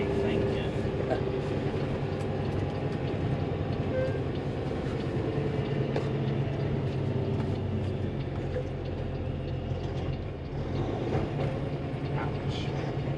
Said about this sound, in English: Gravel trains coming through.